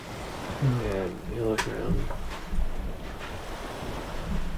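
Ocean waves and wind wash steadily behind a narrator's voice during a tabletop role-playing sea voyage, a soft continuous surf with gentle swells under the talk.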